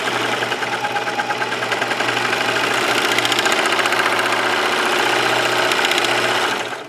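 A serger stitches a skirt waistband seam, a fast steady mechanical whir with rhythmic chatter that runs close and loud for several seconds before stopping.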